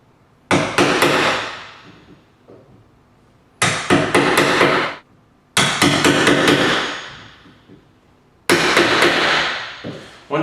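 A hammer taps a chisel to cut a door hinge mortise. The blows come in four sharp clusters of rapid taps, with pauses between them, close and loud, and no talk over them.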